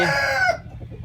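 A Burmese game rooster finishes a loud, close crow whose drawn-out tonal note breaks off halfway through, leaving faint background noise.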